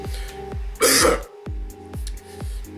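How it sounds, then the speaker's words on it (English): A single harsh cough or throat-clear from someone with a lingering cough, loud and close, cutting over a steady rhythm of low thumping beats from a dating-sim game's music. "I've still got the cough, I apologize"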